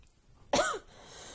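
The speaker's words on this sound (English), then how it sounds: "Got this dry cough." A single sharp dry cough from an adult, close and fairly loud, bursting out once against a quiet room and fading within a fraction of a second.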